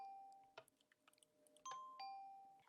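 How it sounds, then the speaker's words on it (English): A Minecraft note block doorbell chiming a two-note tone, C then G, in clean, bright electronic bell notes with light clicks between, sounding alone and close. "If we hit our button here, there we go. We have our doorbell."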